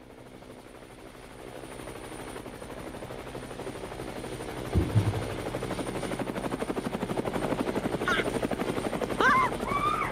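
A helicopter's rotor chops steadily and grows louder in a VR battle royale game played on a Samsung Odyssey headset, with a sharp thump midway and a few brief chirps near the end.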